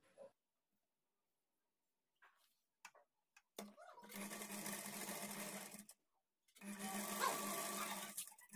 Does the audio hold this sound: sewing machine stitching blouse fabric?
yes